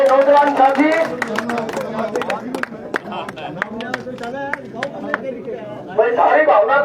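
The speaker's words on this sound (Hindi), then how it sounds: "जोरदार तालियां हमारे नौजवान साथी।" A political rally crowd gives scattered, uneven applause of individual claps while someone speaks loudly over them through much of the stretch.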